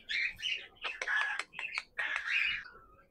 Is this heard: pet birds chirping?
yes